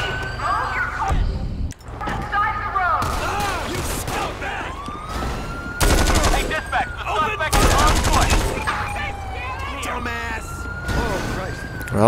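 Gunfire in GTA V during a police mod patrol, with loud bursts of rapid shots and single cracks over wailing police sirens, while voices talk amid the chaos.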